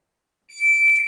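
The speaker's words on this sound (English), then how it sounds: "Wait for the beep." A shot timer gives a single sustained high electronic start beep during dry fire practice, loud and clean after a short silence, with no talking.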